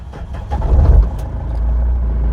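A 2007 Mahindra Scorpio CRDe with a 2.6 litre diesel engine turns over and settles into a low, steady idle, close by, with a rough rumble as it catches and no voices.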